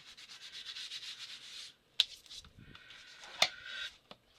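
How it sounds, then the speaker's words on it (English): Steady back-and-forth rubbing as marks are rubbed out on a junk journal paper page, soft scratchy strokes broken by two sharp ticks, with no talking. "Just rub it out."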